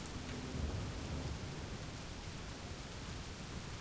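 In the city-building game Cliff Empire, a storm gives a steady, even hiss of rain with low rumbles of thunder beneath it. Nothing else is heard.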